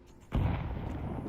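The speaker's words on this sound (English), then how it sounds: "Grenade." A grenade detonating in Counter-Strike 2: one sudden, heavy explosive boom with a deep low-end thump that rolls on briefly afterward, loud and close, with no talk over it.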